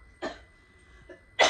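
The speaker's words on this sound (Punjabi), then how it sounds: "ਹੋ ਗਈ ਖਾਂਸੀ" Two short coughs from one person, about a second apart, the second a little louder and sharper, heard close up in a quiet room.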